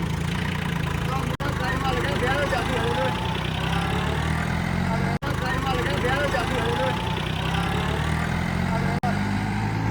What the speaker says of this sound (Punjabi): ਆਵਾਜ਼ ਬਹੁਤ ਪਿਆਰੀ ਹੈ ਟਰੈਕਟਰ ਦੀ